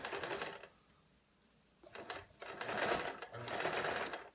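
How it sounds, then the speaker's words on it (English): A Morse sewing machine stitches a seam in three runs of rapid mechanical chatter, close and fairly loud, with a short pause between the first and second runs and no talking. "I place my needle, lower the presser foot. I'm sewing along"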